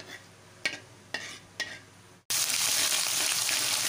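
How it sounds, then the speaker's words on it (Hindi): Cumin seeds hit hot oil in a wok, bursting into a loud, steady sizzle after a few soft clinks and a short pause. "हम ज़ीरे को थोड़ा सा ब्राउन होने देंगे।"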